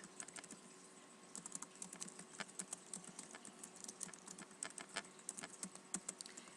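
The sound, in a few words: typing data into Excel on a computer keyboard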